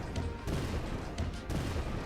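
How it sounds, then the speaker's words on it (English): A cannon blows itself up in the video game Penny's Big Breakaway, giving two sharp bursts about a second apart, each a quick blast with crackling debris, moderately loud with no talk. "That cannon just blows itself up."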